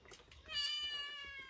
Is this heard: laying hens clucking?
no